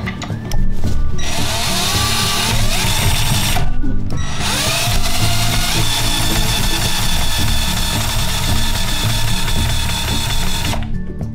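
A power drill drives screws into wooden planks for a cat-proof window screen, two loud sustained whirring runs with a brief pause between, close and alone.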